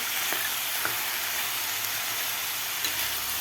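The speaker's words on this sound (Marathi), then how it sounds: "एक मिनिटभर व्यवस्थित परतून घ्यायच्या आहेत ह्या तुपामध्ये मटरसुद्धा आपल्याला यामध्ये घालायचे आहेत" Vegetables and peas sauté in hot ghee with a continuous close sizzle and hiss, broken by a few faint clicks of a spoon stirring, with no voices.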